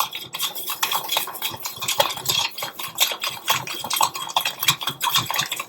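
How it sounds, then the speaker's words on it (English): A whisk beating a sugar mixture in a bowl in a home kitchen, giving a dense, steady scraping and clinking texture that stays loud and close for the whole stretch without any talk. "Today I'm going to use this for whisking"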